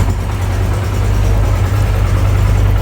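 A Yamaha YBR125 motorcycle with a carburetor idles steadily after warm-up, its deep, even engine rumble continuous and close throughout, with no talking.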